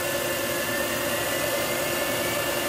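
A small hydrogen-powered turbojet engine spins up and lights, giving a continuous loud, even roar and hiss with a steady high whine running throughout, heard up close and without any talking.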